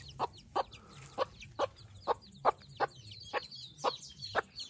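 Hen clucking among her chicks in a poultry yard, a run of about a dozen short, evenly spaced clucks, close and distinct, with faint peeping and no talk.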